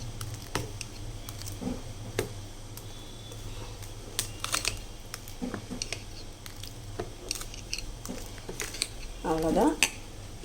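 Dal batter with salt and turmeric is stirred in a bowl, giving soft wet squelches and light spoon clinks against the bowl, close and intermittent over a quiet room background.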